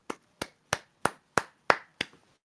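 Hand claps given as applause for a track during a music production livestream: seven crisp, evenly spaced claps, close and fairly loud, alone in silence.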